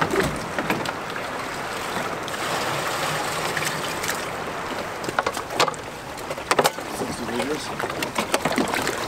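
Fresh water filling bear barrels on a canoe trip crossing Labrador, a steady close trickle and gurgle of pouring water with occasional knocks and splashes.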